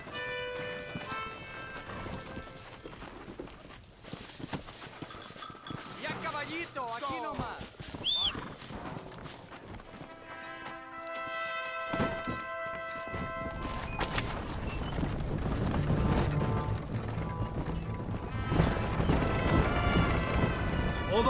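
Galloping horse hooves in the Red Dead Redemption game, a steady clip-clop that builds louder and denser in the second half, mixed with music, a whinny and people talking.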